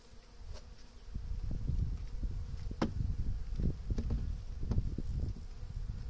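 Italian honey bees in a hive hum and buzz close by at a low level, with a continuous drone broken by individual bees passing near the ear and soft rustling.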